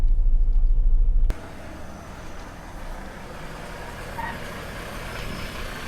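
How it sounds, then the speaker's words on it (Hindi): Cars and trucks rumble while boarding a ferry from Belgium to Sweden, beginning with a loud low engine roar that cuts off abruptly and gives way to a steadier, quieter vehicle rumble and hum. No one speaks. "इस पे कार जा रही है"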